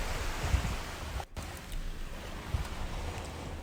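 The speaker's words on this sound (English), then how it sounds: "watched some waves breaking onto rocks" Ocean waves break onto harbour rocks at Mossel Bay, a continuous broad wash of surf with gusts of wind buffeting the microphone, at moderate distance with no voices.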